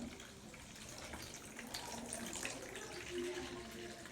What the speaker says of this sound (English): you drain the pickle juice into a bowl